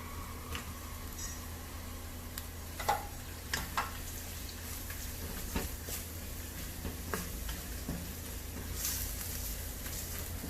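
Green chilies cook in a pan while making egg dum biryani, giving off a quiet, steady sizzle with scattered soft clicks and taps of stirring.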